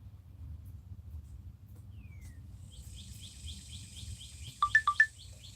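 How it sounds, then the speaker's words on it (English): Birds in a garden give faint chirps over a low steady background, then a short cluster of sharper, brighter calls near the end, with no talking. "Oh, the birds chirping,"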